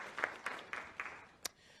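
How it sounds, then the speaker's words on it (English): Brief, faint applause from an audience at a live broadcast panel, a few scattered hand claps that thin out and stop within two seconds. "A round of applause for Edith, ladies and gentlemen."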